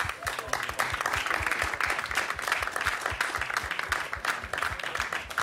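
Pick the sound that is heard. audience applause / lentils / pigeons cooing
audience applause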